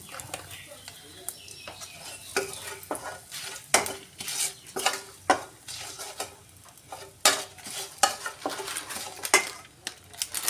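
Asafoetida dropped into spices frying in oil for lau shukto, with a spoon clinking and scraping against the pan in irregular bursts over a soft background sizzle, close by.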